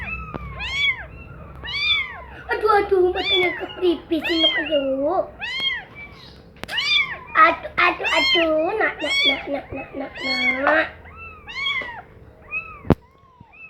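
Cats carried by children meow over and over at close range, high and insistent in rapid bursts, while someone talks at the same time.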